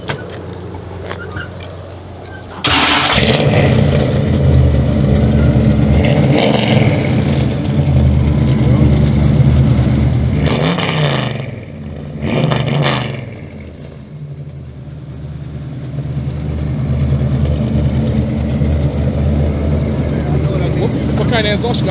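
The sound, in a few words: 1974 Monte Carlo engine running with Flowmaster exhaust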